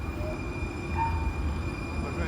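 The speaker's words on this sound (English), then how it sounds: "this is the new two-car Siemens train right now, 125 turning" New two-car Siemens light-rail train on the N Judah line at Ocean Beach rumbles steadily while turning, a close low rolling drone with a faint brief wheel squeal and a high electrical whine throughout.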